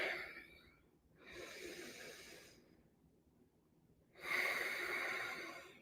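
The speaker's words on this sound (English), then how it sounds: "Let's breathe together for a moment." Slow, deliberate breaths drawn in and let out during a short guided breathing moment, three soft airy swells with quiet gaps between them, the last inhale strongest and close to the microphone, no talking over them.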